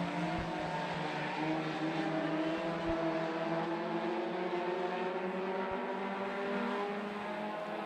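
F4 race cars at a speedway, a steady droning engine roar with harmonic whine that holds and slowly shifts in pitch, moderately faint and constant, without voices.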